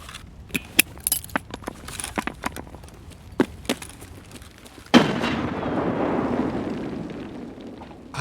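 A grenade goes off in the game Escape From Tarkov with a sudden loud boom and a long rumbling tail, after a run of sharp clicks and footsteps.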